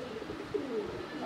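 Large Lahori pigeons coo in a soft, continuous low rumble at close range, a brief steady burst with no voices.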